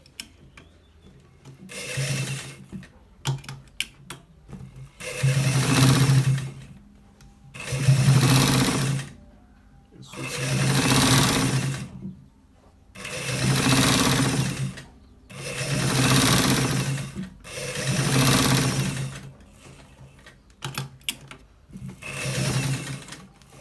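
A sewing machine stitches a collar shirt in seven steady bursts of a few seconds each, separated by short pauses and soft handling noises, loud and close with no talking.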